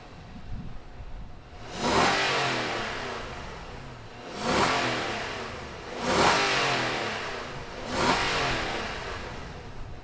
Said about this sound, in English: Let's fire up this Nissan Armada and hear what it sounds like.